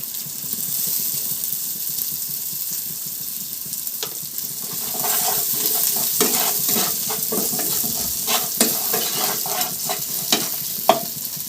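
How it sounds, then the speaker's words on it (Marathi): Peanuts frying in a little oil in a pan, a steady close sizzle with occasional scraping stirs and small clinks. "शेंगदाणे थोडेशा तेलात घालून घ्यायचे"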